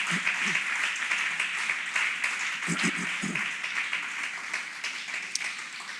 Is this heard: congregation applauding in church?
yes